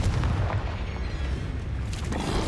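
Confringo spell in Hogwarts Legacy bursts in a heavy, booming explosion with a thick low rumble that stays loud and dense throughout the short moment.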